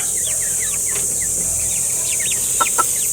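Porcelain Brahma chickens, including a rooster, give several soft clucks and chirps that sit close by over a steady hiss of background noise, with a couple of louder calls near the end.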